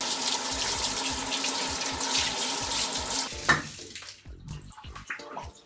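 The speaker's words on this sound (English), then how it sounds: "Now I'm just going to take each one of them and rinse them off." Tap water runs steadily as dry-clean-only garments are rinsed under it, with a continuous splashing hiss. The flow stops near the end, leaving a few drips and small handling noises close by.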